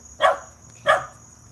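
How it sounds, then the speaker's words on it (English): Dogs bark twice, two sharp, fairly close barks about half a second apart over a faint steady background hum. "The dogs are barking."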